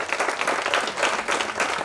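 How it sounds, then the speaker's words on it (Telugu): Guests at a batch get-together party clap to welcome a teacher, with loud, continuous applause from a full room, steady and close throughout. "చప్పట్లతో స్వాగతం పలకండి."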